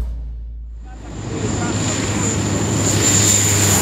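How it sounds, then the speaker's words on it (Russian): Antonov An-26 military transport aircraft landing on a section of highway during an air force exercise, a loud steady engine drone that swells after a brief quieter start and holds, with voices talking underneath. "Первым на автомобильный участок дороги приземлился транспортный Ан-26."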